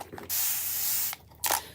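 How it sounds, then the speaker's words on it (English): Water spritzed from a spray bottle onto dried chalk paste on a winter-scene A-frame craft project: one long, steady hiss followed by a second short burst, close and fairly loud, with no talking. "Let's go ahead and spray it with some water here"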